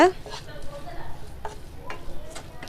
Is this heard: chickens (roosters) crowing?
no